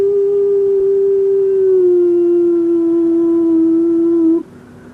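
A long, sustained wailing tone glides slowly downward for about four seconds, loud and eerie, then cuts off abruptly; it sounds like a voice imitating a ghostly moan.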